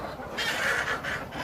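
A chicken perched on a person's shoulder gives short, close clucking calls in a few bursts, loud and near, with no talking over them.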